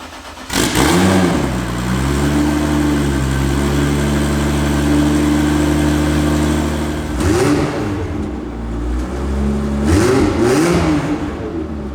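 A Toyota Soarer JZZ30's 1JZ engine with a front-mounted intercooler cranks, catches and settles into a loud, steady idle, then gives two short revs near the end, close by with no talking.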